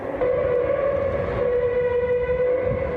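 A fire engine's loud, steady wailing siren holds a sustained tone, rising and wavering slightly, at night in Taipei, with low rumbling traffic noise beneath.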